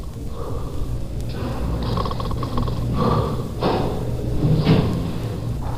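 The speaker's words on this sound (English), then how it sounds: "He's breathing very heavily, as you can hear." A man's heavy, labored breaths rasp close by in slow, uneven cycles over a low background hum.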